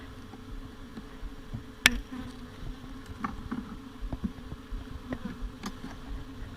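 A low, continuous hum of many honey bees buzzing close by in an opened hive, with a few sharp clicks and knocks scattered through it.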